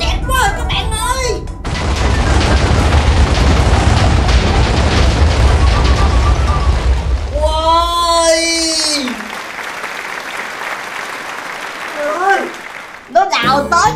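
A light-element TNT block in Minecraft goes off with a long, loud roaring blast and crackling debris, fading out into tonal effects, while a player talks excitedly in Vietnamese around it.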